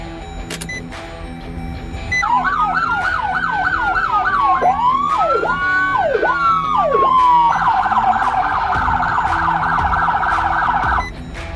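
Siren on a 2021 Dodge Durango Police Pursuit K9 unit sweeps through several wailing and yelping patterns, then switches to a rapid high-low warble, loud and close with no talk.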